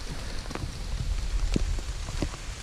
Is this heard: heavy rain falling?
yes